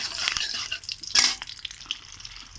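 Dried chillies, five-spice and a cracked cardamom pod sizzle in hot oil in a wok. The soft, crackling frying comes with a few brief stirring scrapes and one louder burst midway.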